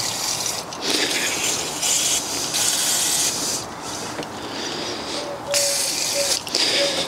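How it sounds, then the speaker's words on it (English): Aerosol can of electrical contact cleaner sprayed into a connector during BMW radiator fan work, several loud hissing bursts of differing length with short pauses between them, close by. "Just going to spray some electrical contact cleaner."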